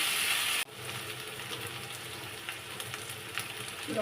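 Taro pieces with turmeric and salt fry in a pan, giving a steady close sizzle with some stirring scrapes after a brief cut at the start; no one speaks.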